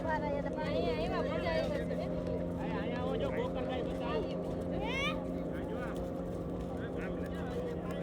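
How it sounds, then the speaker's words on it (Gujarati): A steady low speedboat engine drone runs throughout, some distance off at Shivrajpur beach, beneath layered chatter and a few whistling or squealing voices. "પાછળ સ્પીડ બોટ"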